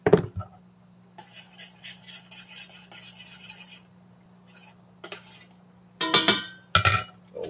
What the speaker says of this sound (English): A little whisk going.